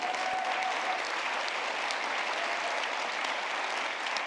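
A large audience applauds at a Gershwin Prize for Popular Song event, giving dense, sustained clapping at an even level from start to finish with no speech over it.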